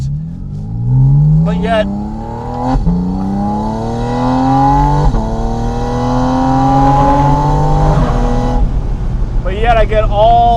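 A Porsche Spyder RS engine revs loud and close, its pitch climbing in rising sweeps through quarter and half throttle with sharp breaks between gears, while someone talks over it.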